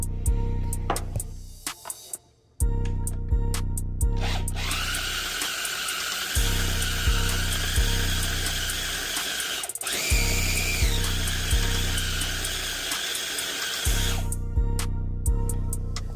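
A food processor blends refried beans with a loud steady whirring drone and rhythmic ticking pulses, running alone and near, with brief pauses.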